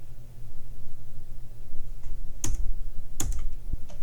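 Code being typed on a computer keyboard: a few sharp, separate keystroke clicks stand out close up against a steady low hum, with no voices.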